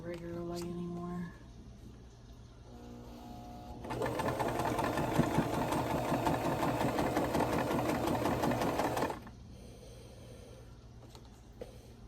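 A home sewing machine, rusty from little regular use, runs steadily for about five seconds with the foot pedal pressed, a dense mechanical whir between quieter stretches with a little talk before and after.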